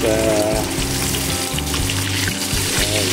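Mackerel fish frying in hot oil in a home kitchen pan gives a steady, close sizzle and crackle while pieces are lifted out, with a low background hum throughout.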